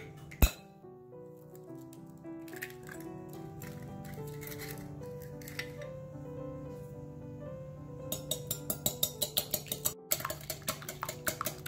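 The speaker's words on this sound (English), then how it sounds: "I'm going to take 2 eggs and I'm going to whisk it." Two eggs are whisked in a bowl, and a quick run of light clinks from the whisk hitting the bowl's sides builds near the end over quiet background music.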